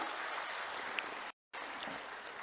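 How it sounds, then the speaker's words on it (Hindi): A crowd at a political rally in Bihar applauds to welcome the chief minister, a dense, steady wash of clapping with a brief cut to silence partway through. "एक बार जोरदार ताली बजाकर मुख्यमंत्री जी का स्वागत करने का काम कीजिए"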